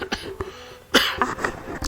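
A single harsh cough bursts out near the mic, loud and short, with a couple of fainter throat noises before and after it, while a person plays the game Wolcen.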